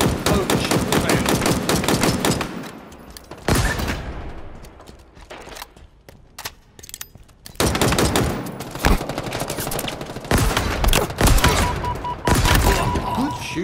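Heavy gunfire in the Halo video game, dense bursts of rapid automatic shots and thuds that drop away to a quieter stretch midway, then return as loud clustered volleys close up.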